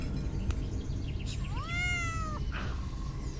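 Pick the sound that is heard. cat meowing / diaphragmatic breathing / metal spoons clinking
cat meowing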